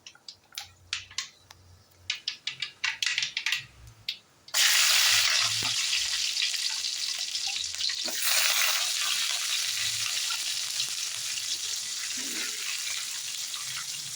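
Mustard seeds pop and tick in hot oil for a fish kuzhambu, then chopped onion and garlic go in with a sudden loud rush of sizzling. A second surge follows and settles into a steady, close fry.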